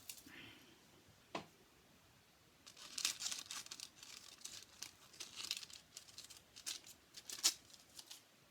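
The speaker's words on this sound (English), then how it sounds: "Just going to hold it onto my fabric and cut it out." Scissors snip and crunch through fabric in soft, irregular cuts, close and quiet, with faint rustling between them.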